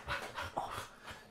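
A small dog pants and whimpers in short breathy bursts with a brief high whine, fairly close and alone, no talking over it.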